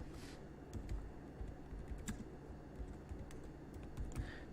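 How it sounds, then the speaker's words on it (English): Quick bursts of typing on a computer keyboard while entering a shipping zone in a WordPress store setup, soft close key clicks in an uneven patter over a quiet room hum. "We just start typing in"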